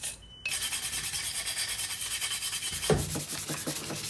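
Rapid rhythmic rasping of sandpaper scrubbing against metal parts of an A5 rebuild, close and steady, with a brief pause before a louder scraping stretch.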